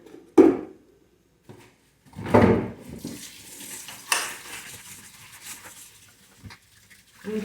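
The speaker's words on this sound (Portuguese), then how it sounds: "Agora lavar a louça, né, gente?" Dishes being washed in a home kitchen: a few separate clatters of pots and utensils, then running water and scrubbing noises close by, with scattered knocks and no talking.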